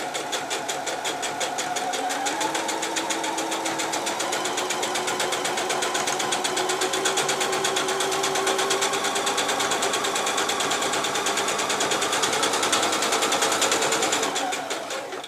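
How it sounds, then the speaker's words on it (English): A sewing machine stitches steadily around a cushion to set a zip, a fast continuous mechanical whirr close by that runs without pause for nearly the whole stretch before easing off at the end. "then just very carefully sew all the way around, keeping this line as straight as I can"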